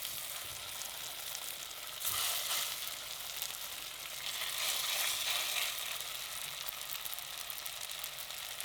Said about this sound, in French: On va faire griller les morceaux.